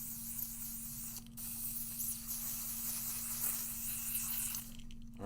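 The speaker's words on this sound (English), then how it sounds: "normally this is not how you would use pixie spray" Aerosol can of pixie spray sprayed in a long continuous hiss for several seconds during card crafting, with a steady electrical hum beneath and a brief pause near the middle.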